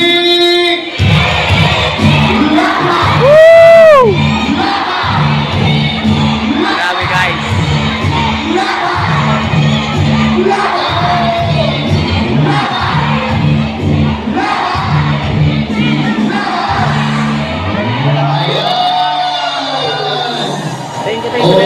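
A large crowd of Sara Duterte supporters in Hong Kong shouts and cheers loudly in rhythmic waves of chanting, with occasional whoops and a voice over the din.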